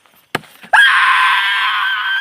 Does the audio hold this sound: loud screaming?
yes